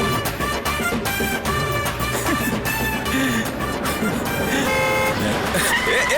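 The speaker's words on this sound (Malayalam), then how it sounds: "കാർ ഗേറ്റിന് നേരെ തിരിച്ചു നിർത്തിയിട്ട് ഹോൺ അടിക്കാം." A car horn honks in repeated toots while the car waits facing a gate, loud and close, with people talking over it.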